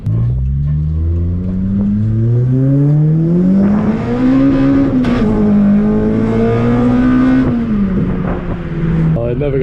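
A Toyota Corolla T-Sport race car engine drones loudly from close inside the cabin, revving up and easing through gears with a rising, falling hum during a drive-thru trip, while someone talks over it.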